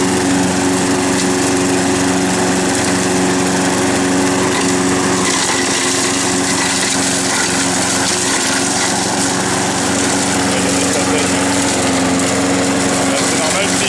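A Husqvarna-Frigidaire lawn mower runs steadily while mowing, a loud, close, constant engine drone with a high whine that holds for the whole stretch without a break.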